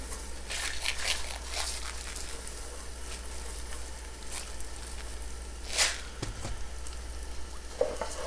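Two cups of arborio rice go into a pan of butter and softened onions for risotto, giving a steady, close sizzle with stirring and a few crinkly scrapes, with no talking.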